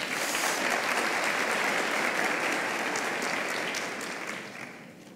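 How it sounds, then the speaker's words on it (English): Sustained audience applause fills a graduation ceremony hall, steady and dense for about four seconds before tapering off. "Please give him a round of applause."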